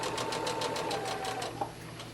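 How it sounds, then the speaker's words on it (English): A sewing machine stitching fabric for a doll dress, a fast even run of close mechanical needle pulses that slows and stops with a small click. "I'm going to take a stitch or two forward and back up, and then I'm going to sew straight forward."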